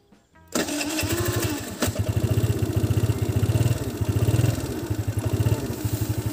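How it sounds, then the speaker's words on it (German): A small engine is cranked by its electric starter, catches almost at once and settles into a loud, close, steady chugging idle with a regular pulsing beat. "Und dann drücke ich mal den E-Starter."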